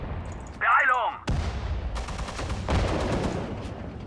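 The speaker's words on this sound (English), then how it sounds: "a lot of artillery firing" Artillery fire in the WWII strategy game Sudden Strike 4, with sharp booming blasts and rattling gunfire, a brief whistling sweep, and then a dense crackle of shots.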